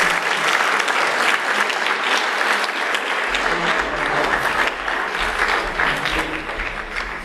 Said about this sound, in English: Let's give another round of applause to these students who have excelled excellence in academics.